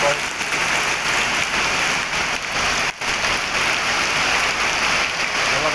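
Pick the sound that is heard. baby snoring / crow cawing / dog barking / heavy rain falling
heavy rain falling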